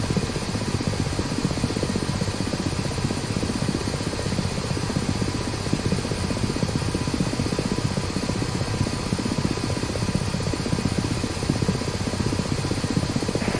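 The Ka-50 attack helicopter in the DCS Black Shark flight simulator makes a loud, constant rotor and turbine drone with a dense low thrum that stays steady throughout, with no voices.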